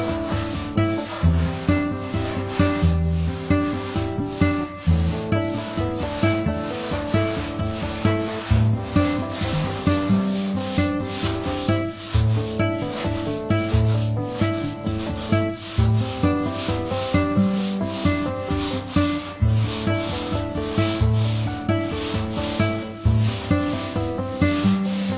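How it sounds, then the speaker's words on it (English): Hardened Bondo filler being sanded on a molded fiberglass model fuselage: a steady, close, rhythmic rasping scrape of repeated strokes that continues without a break and without talk. "As soon as I see fiberglass, I stop sanding and start filling the low spots."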